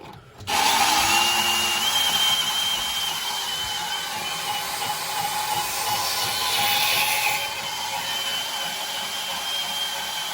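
A bandsaw runs steadily through steam heating pipe behind a baseboard, giving a sustained, close, loud whining grind with a slight change in pitch partway through, with no talk.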